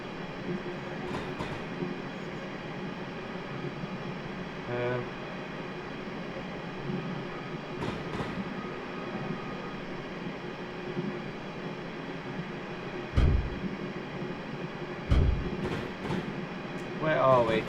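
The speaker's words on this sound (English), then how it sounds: "Oh, they're very noisy tube trains." Noisy London Underground tube trains rumble along in a railway simulation near Watford Junction, a steady rolling drone of wheels on track with clickety-clack joints and a few louder clunks and bursts toward the end.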